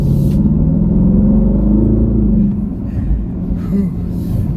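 A 2025 Aston Martin Vantage V8 engine rumbles steadily and loud from inside the moving car, its deep low drone easing slightly after a couple of seconds.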